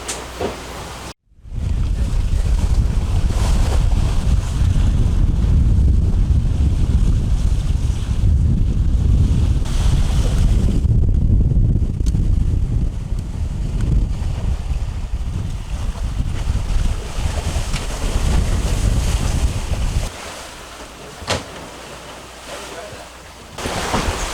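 Strong wind of around 18 knots roaring across a sailboat at sea during a Pacific Ocean crossing, loud continuous buffeting against the microphone with rushing water and waves beneath, easing slightly near the end.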